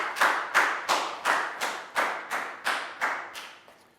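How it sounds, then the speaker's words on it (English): Classroom clapping during a Year 4 maths lesson: about ten slow, evenly spaced claps in a steady rhythm, close and distinct, with no talking. "High five and a big round of applause for Prao."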